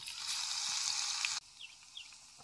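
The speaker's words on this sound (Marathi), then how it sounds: "आरावरची एक आमटीला फोडणी देणार आहे." Loud hissing sizzle of cumin and crushed garlic hitting hot tempering oil, bright and crackling, then dropping suddenly to a softer simmer with faint pops.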